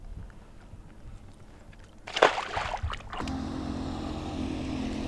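A bass fishing boat gets underway with a brief rush of wind and splashing water, then its motor settles into a steady, fairly close drone for the last couple of seconds; no voices.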